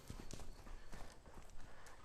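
Hooves of a young two-year-old Oldenburg horse shuffling and clopping softly while it is taught to turn, a quick run of faint, uneven steps on the ground.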